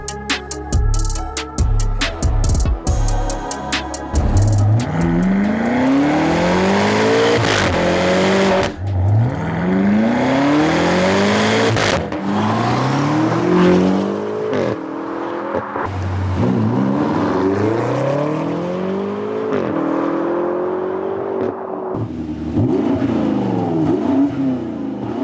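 A BMW F90 M5 fitted with a DINAN exhaust fires up and revs repeatedly, each sweep of the throttle rising and falling in loud, close bursts with deep exhaust burble between pulls, no talk over it.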